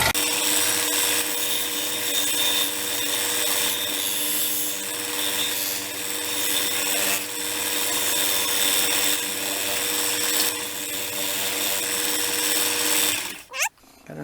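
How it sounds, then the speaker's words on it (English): Steady power sanding of a bevel along the edge of a small wooden automaton rower boat held at about a 30-degree tilt; a continuous loud whirring grind runs throughout, cutting off with a brief clatter at the end. "I'm just gonna sand a bevel on the edge here."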